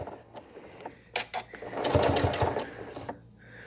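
Sewing machine stitching an add-on binding along a quilt edge at a quarter-inch seam, running in a steady buzzing burst that swells in the middle and then slows, with a few separate short stitches before it, close and clear.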